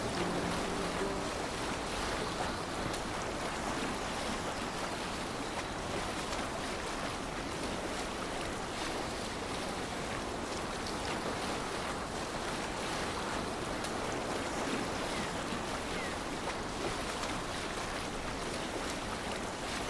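A sailing longship cuts across the open sea in Assassin's Creed Valhalla, with a constant rush of waves and wind against the hull, steady and moderately faint.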